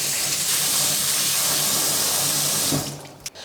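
Running tap water pours steadily through a strainer of brown lentils being rinsed for lentil soup, a loud continuous splashing rush that tapers off near the end, with no talking.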